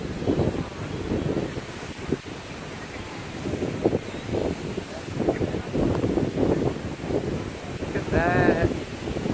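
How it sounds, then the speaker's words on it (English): Strong wind buffets the microphone in loud gusts by the shore, with surf rumbling underneath and a person's voice breaking in now and then. "even though it's like really windy, and as you can see how windy it is over here"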